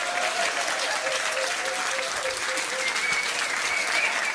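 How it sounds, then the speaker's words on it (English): An outdoor quiz crowd applauds steadily throughout, a dense continuous clapping at moderate loudness with no talk over it. "Go on, give them a big clap."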